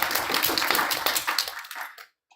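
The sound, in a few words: audience applause for a speaker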